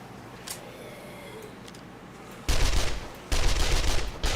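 SMG-5 submachine gun fire in the survival video game 7 Days to Die, two loud rapid automatic bursts close up after a quiet stretch with faint scattered noises.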